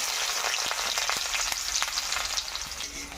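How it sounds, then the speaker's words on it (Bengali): Chopped onions frying in hot oil for a simple chickpea fry, a steady close sizzle with faint crackles and occasional pops, heard on its own without any talking. "এখন তেলটা হয়ে গেছে, গরম হয়ে গেছে। এখন পেঁয়াজগুলা দিয়ে দিব কেটে রাখা।"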